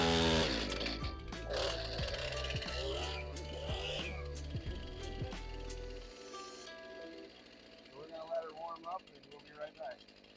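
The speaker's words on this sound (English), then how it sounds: "I stopped the saw" A Stihl chainsaw runs loud and close with a rough, snarling idle and blips of throttle for about six seconds before being shut off, after which someone talks quietly.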